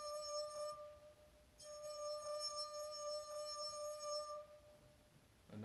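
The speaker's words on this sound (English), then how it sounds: "your finger sticks to and then slips off of the glass at the rim" A wet finger rubbed around a glass rim makes it sing in a pure, sustained ringing tone with bright overtones. It plays as two long, quiet notes with a short gap between them.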